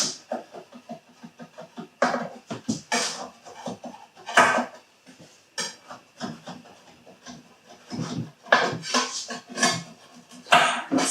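Up close, a utensil scrapes around the sides of a metal loaf pan to loosen baked pumpkin pecan bread, making rhythmic bursts of short, rasping strokes with brief pauses between them.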